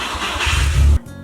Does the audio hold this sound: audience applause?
no